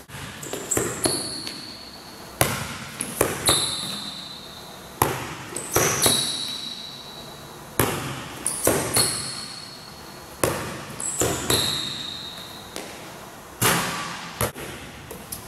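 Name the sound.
basketball dribbling on court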